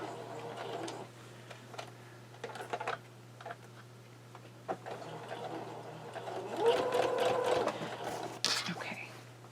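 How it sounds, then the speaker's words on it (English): Domestic sewing machine stitching a quilt block, a few short bursts of rapid stitching with a longer run near the end, quiet and close over a steady electrical hum, with light clicks between bursts. "I'm going to put my needle down. I'm going to sew a few stitches and then back"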